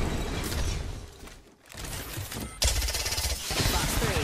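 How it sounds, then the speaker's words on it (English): Rapid gunfire bursts crackle in an Apex Legends match, dense automatic fire in two stretches with a brief gap between, fairly quiet overall. "I am taking fire, friends."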